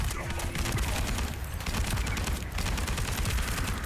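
Enemy gunfire in The First Descendant looter shooter, a dense, constant wash of rapid shots and impacts at steady loudness throughout, with no clear talk.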